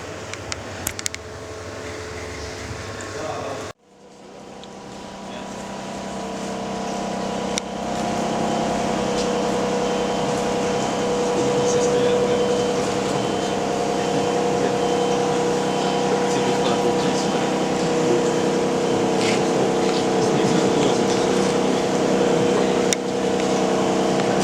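Motorboat engine droning steadily after a sharp cut, a continuous loud hum with water noise that swells slightly over the ride, with voices now and then.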